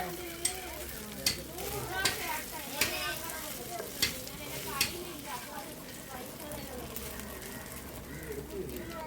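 Cooked rice being stirred and mixed in a pan, with soft scraping and spoon taps repeating at a steady rhythm over a faint sizzle and background noise.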